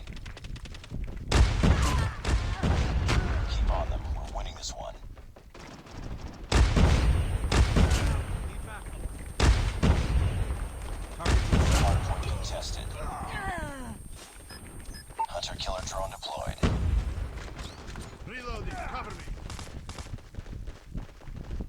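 Call of Duty Mobile gunfire in a domination match: heavy bursts of rapid shots and booms come in waves, loud and close, with people talking over the action.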